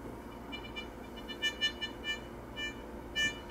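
A pulse pinpointer metal detector gives off faint, brief electronic signal tones in a quiet outdoor setting, a few short beeps over low background noise.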